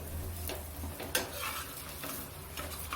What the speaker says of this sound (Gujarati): આ રીતે આપણે તવીથાની મદદથી ઉપર તેલ ફેલાવી દઈએ